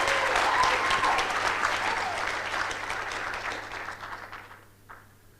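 Audience clapping at a graduation ceremony, a dense sustained burst of applause from a crowd that gradually thins and fades out near the end.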